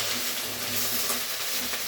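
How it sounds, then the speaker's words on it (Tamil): Curry leaves sautéing in hot oil in a pan, a continuous bright hissing sizzle with light crackles, close and steady across the short moment with no talking. "நல்ல ஒரு 3 to 4 minutes இந்த மாதிரி நல்லா வதக்குனீங்கன்னா ரொம்ப நல்லா இருக்கும்."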